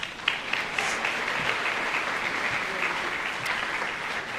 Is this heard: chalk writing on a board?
no